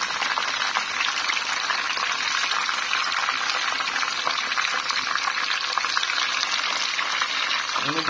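Mustard greens fry in a pan with a steady, dense, close sizzle and crackle of hot oil that runs unbroken the whole time.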